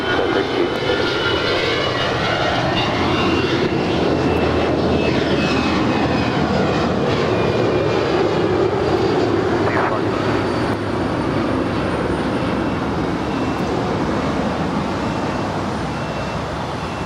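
Alaska Airlines Airbus A320 departing runway 25 right at Los Angeles International, its engines building into a loud, sustained roar that stays strong throughout and eases slightly toward the end.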